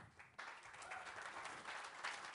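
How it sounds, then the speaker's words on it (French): Audience applause for a speaker at a round-table panel on Russia, Europe and the war, a steady, fairly faint wash of clapping that swells after a quiet start and carries on without pause. "vous pouvez l'applaudir"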